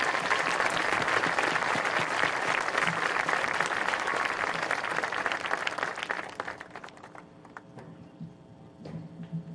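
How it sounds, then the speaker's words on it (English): Loud applause from the crowd at a high school graduation ceremony for the class of 2021, a dense wash of clapping that fades after about six seconds into scattered claps and room noise. "Would you please join me in a round of applause to recognize these dedicated individuals and their contribution to make this day come to fruition."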